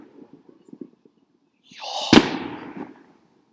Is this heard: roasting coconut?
no